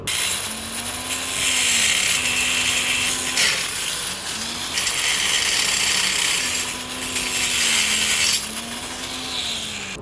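A power tool grinds and saws away at a GTR150 motorcycle rear-end fitting, a loud rasping whine in several long bursts with a steady motor hum underneath and short pauses between passes.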